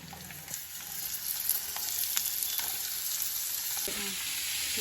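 Pumpkin pieces fry with garlic and prawns in a pan: a steady, close sizzle and crackle of hot oil, with occasional stirring clicks and scrapes and no talking.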